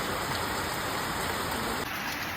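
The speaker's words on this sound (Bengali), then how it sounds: "দেখতে পাচ্ছ এত বৃষ্টি হচ্ছে আমাদের দিকে।" Heavy rain pours down steadily and loudly in a dense, unbroken hiss that fills the whole stretch, with no voices over it.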